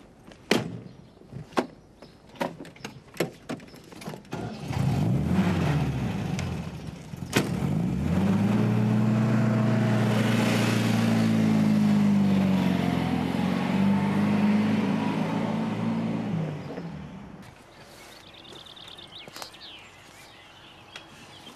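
A car door clunks and other handling knocks sound, then the engine starts and runs up into a steady driving drone that holds for about ten seconds before fading out, followed by more faint knocks and rustling, heard close from inside the vehicle.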